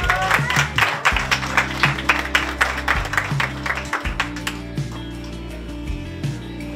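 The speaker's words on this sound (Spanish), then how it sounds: "¡Aplausos!" An audience claps in a dense, rhythmic burst that gradually thins and fades, with a steady low musical drone running underneath.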